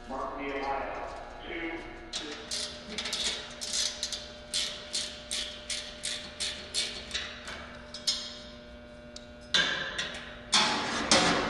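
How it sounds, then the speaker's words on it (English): Screws on a machine's belt cover are undone with a wrench or socket, giving a steady run of about a dozen sharp ticking clicks in even rhythm, close and clear. A voice talks at the start and end. "start by unscrewing the 4 screws that secure the belt cover using an appropriately sized wrench or"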